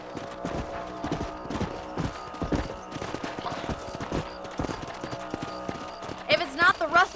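Horse hooves clip-clop steadily in Red Dead Redemption as a horse moves along at a regular rhythmic pace, close and clear, with someone talking over it and a brief whinny near the end.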